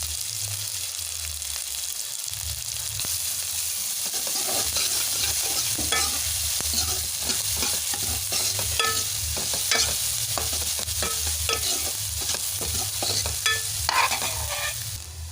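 Chopped large onion and green chillies fry in hot oil with cumin and mustard seeds for a sardine fish curry, giving a steady close sizzle broken by scraping stir strokes throughout.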